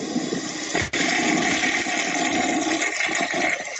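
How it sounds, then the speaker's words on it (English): An old toilet flushing as a sound effect, a loud continuous rush and gurgle of water with a brief dip near the start, then a steady swirling drain to the end. "Yeah, that's right. The old flushing toilet."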